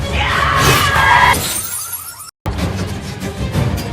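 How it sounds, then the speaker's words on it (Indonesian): A ninja knife smashes through a car window in a film scene: a loud, bright burst of shattering glass, then a tinkling tail and a brief dropout before the scene's steady rumble returns. "Terus tiba-tiba ada pisau ninja yang menembus kaca mobil."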